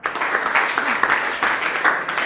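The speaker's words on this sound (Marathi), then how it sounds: "टाळ्या वाजवा सगळ्यांना." Audience applause in a gathering, steady clapping from many hands lasting a couple of seconds, fairly loud and continuous with a few louder claps poking through.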